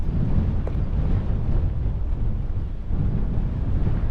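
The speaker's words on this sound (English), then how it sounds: "I think the wind's starting to get up a little bit now" Wind blows across the microphone on Coldsmouth Hill in the Cheviots, near the Scottish border on St Cuthbert's Way, making a continuous loud, low buffeting rumble with no talk.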